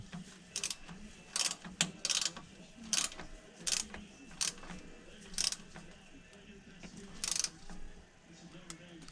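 A series of short, sharp ratcheting clicks come from a torque wrench tightening the washered drain plug on a 2018 Toyota 4Runner during a drivetrain fluid service. The clicks arrive irregularly against a low background.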